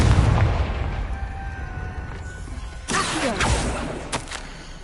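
A Confringo blasting spell detonates in a Hogwarts wizarding video game: a low rumble gives way to a sudden fiery burst partway through, followed by a second crackling blast that trails off. No voices are heard.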